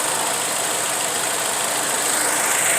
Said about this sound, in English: as you can hear, it's not changing the way the engine sounds